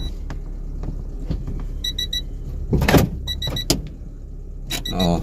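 A reverse parking sensor on a Honda Jazz GD sounds in repeated short, bright beep bursts, in groups with gaps between them, over the car's low idle and a few knocks.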